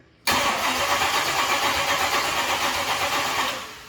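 An engine turns over and fires after the ignition is switched on on what seems to be alcohol fuel, then runs loud and steady with a rough, busy roar for several seconds before easing off at the end.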